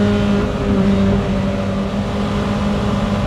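A 1967 Nomad MK1 car drives with a steady engine drone and a sustained tonal whine, holding a fairly constant loud pitch throughout.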